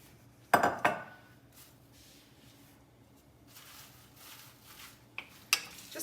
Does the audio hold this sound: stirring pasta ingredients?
yes